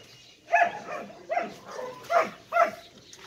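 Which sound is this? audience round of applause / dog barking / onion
dog barking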